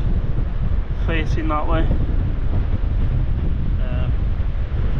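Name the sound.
strong wind on the North Wales coast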